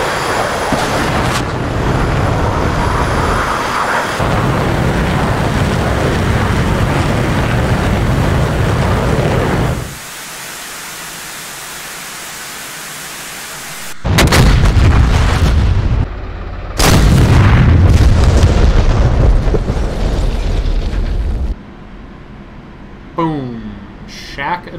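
In the DCS World flight game, a Su-25T jet's engine roars steadily before and after an air-to-ground missile launch, with loud whooshing bursts and a sharp break in the noise, while a voice talks over it.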